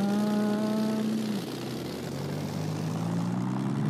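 A Supermarine Spitfire engine roars at takeoff in Flight Simulator X, a loud, steady propeller drone whose tone drops partway through and then holds as it climbs, with no talking.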